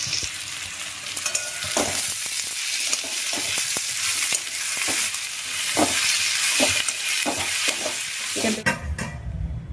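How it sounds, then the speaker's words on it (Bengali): Onions sizzle and fry in a pan for breakfast preparation, a steady close hiss broken by repeated scraping stirs of a utensil at irregular intervals. "পেঁয়াজ ভাজা শুরু করে দিয়েছে"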